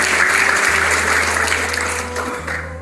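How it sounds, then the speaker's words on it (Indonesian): Steady, dense applause from a crowd at a health-and-gratitude talk, loud and continuous for a few seconds before tapering slightly, with a low hum beneath. "Tepuk tangan untuk kita semua"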